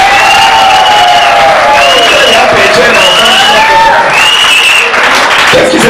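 A church congregation applauding and cheering, with loud sustained clapping and rising whoops and shouts from many people filling the room throughout.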